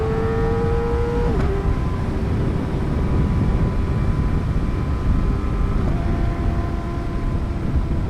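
A Kawasaki ZX4-RR motorcycle engine revving high and smooth, a steady loud whine that drops sharply once, then holds and shifts again, with road and wind rumble underneath.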